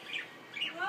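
A pet bird kept in a home bird room gives two short, bright chirps close by, separated by a brief pause, with a soft rising trill at the end and no talking.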